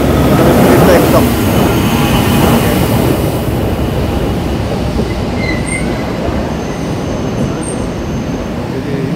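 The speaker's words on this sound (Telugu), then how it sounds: "మన ట్రైన్ వచ్చిందండి, మనం ఇంట్లో ఎక్కుతాం." Jungfrau railway train pulls into a Swiss station, a loud close rumble of wheels on rails that eases gradually, with faint squeals and a hint of voices in the background.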